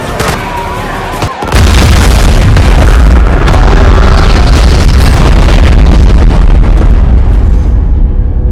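A sudden loud boom as a gunshot ignites leaking aircraft fuel in the film Greenland, after a short quieter stretch, followed by a sustained roaring rumble of fire and debris that fills the rest of the clip.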